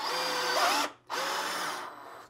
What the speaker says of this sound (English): This is using the drill with the screw, and watch what happens if you're to do this with the drill and you don't have the torque setting right.